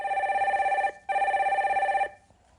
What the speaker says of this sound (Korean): 전화 빨리 그냥 연결해 볼까요?